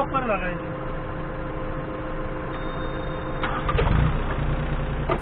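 A forklift engine runs steadily after starting, a continuous mid-pitched idle with some rising mechanical rumble near the end, close by and without talk.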